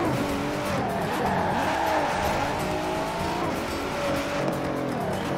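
A V6 race car in the Forza video game revving hard with tire squeal, continuous loud engine drone with rising and falling pitch and screeching tires throughout, no talk.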